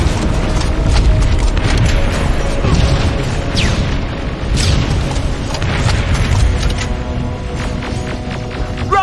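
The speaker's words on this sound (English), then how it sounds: "Rockets! They're heading this way!" Rocket explosions in the Terminator: Resistance video game roar as a dense, continuous wall of booming blasts and rumble, loud and close, with no speech.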